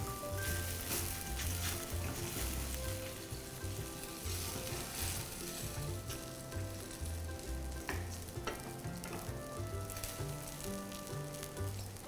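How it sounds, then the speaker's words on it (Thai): Busy crackling and bubbling of a pot of water on the boil, a continuous sizzling texture with scattered pops throughout, no talking. "อนนี้น้ำก็เดือดแล้วนะครับ"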